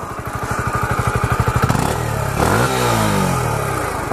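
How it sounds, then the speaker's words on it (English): A 2017 Kawasaki Z125 motorcycle revs close up through its exhaust, starting with a rapid pulsing idle, then climbing sharply, dropping back and rising again into a loud, sustained rev. "Let's listen to that exhaust."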